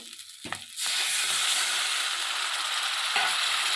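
Fried spice mix in a pan suddenly bursts into a loud, steady sizzle as a little water is added, after a few quiet scraping stirs.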